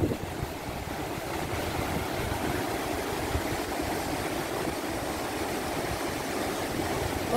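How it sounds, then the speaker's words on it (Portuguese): A small waterfall flowing at a scenic regional spot, a steady broadband rush of water that continues without a break, with no talking. "Tem uma cachoeirinha ali, ó."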